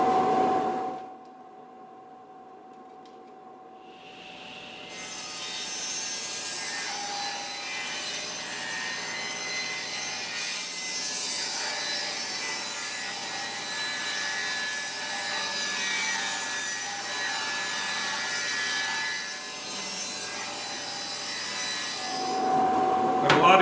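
A power saw rips a board of wood into 3/4 inch strips, starting after a brief quiet and running as one long, steady, gritty cut before winding down at the end.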